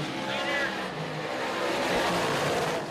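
DIRTcar 358-Modified race cars roaring around the dirt oval at Can-Am Speedway, a continuous engine drone rising and falling as cars pass, under a race announcer's commentary.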